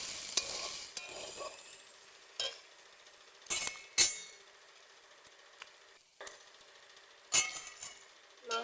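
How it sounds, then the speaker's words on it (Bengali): Chicken meat being slowly stir-fried in a pan over low heat, a steady soft sizzle broken every second or two by sharp scrapes and clinks of the spatula against the pan, with no voices. "মাংসটা দিয়ে আস্তে আস্তে কষিয়ে নেব।"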